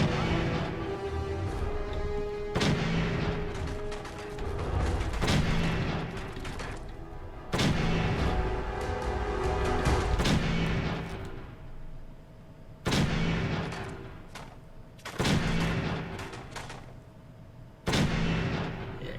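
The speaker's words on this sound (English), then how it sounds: "Preston is shooting at somebody up on the 3rd floor." Loud bursts of gunfire from the Fallout 4 video game, with a shooter firing at an enemy on a museum's third floor: repeated heavy booming shots at irregular intervals, each with a long echoing decay, and no talk.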